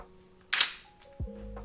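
A Nikon D2X DSLR fires its shutter, one sharp, close mechanical click-snap, followed a moment later by a fainter thud and a low electronic hum.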